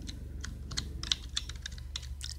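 Computer keyboard keys pressed in a quick irregular run of close clicks and taps over a low steady hum.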